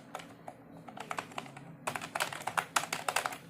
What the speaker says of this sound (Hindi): अगर आपको मैकेनिकल कीबोर्ड की साउंड पसंद है जो कि कुछ ऐसी होती है